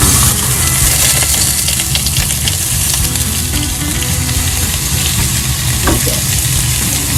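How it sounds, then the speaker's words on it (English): Pork belly with white radish and carrot stir-frying in sesame oil, a loud, continuous close sizzle with scraping and stirring clatter, no voices. "Step 4 is to pan fry the pork belly and root vegetable."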